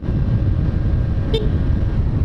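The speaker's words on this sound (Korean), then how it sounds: "왜 빵빵을 한 거야?" A car horn gives one short, quick toot over a loud, constant roar of road traffic.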